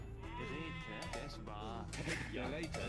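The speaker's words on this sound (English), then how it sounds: "There's a few sheep there as well." Sheep in the video game Age of Empires II: Definitive Edition bleat in several short calls, heard under a continuous game soundtrack and voice.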